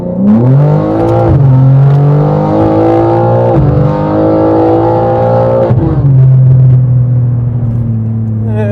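A BMW G80 M3 Competition xDrive engine revs hard and climbs through gears, loud and close, with rising pitch and brief drops at each shift.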